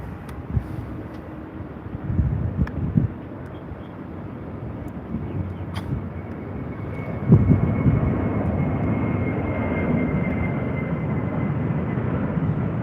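A Virgin Australia jet departs on the Melbourne flight, its engine roar building from a distant rumble into a loud, sustained wash that holds steady, with some wind buffeting.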